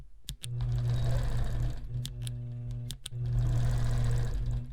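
A sewing machine stitches chevron patterns on a quilt with the help of a hexagon ruler, giving a close, steady, rapid mechanical whir that stops briefly twice with small clicks and then resumes.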